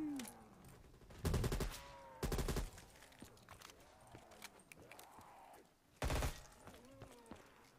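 Several loud, sharp bursts of gunfire from a newly bought gun in a video game, fired in short volleys spaced a few seconds apart, with quieter game sounds between them.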